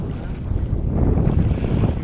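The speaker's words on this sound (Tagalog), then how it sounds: "Yung alon na binabaybay natin, yun oh." Boat crossing sea waves on a fishing trip, heard as a continuous low rumbling wash of water and engine with heavy wind buffeting the microphone, close and loud throughout.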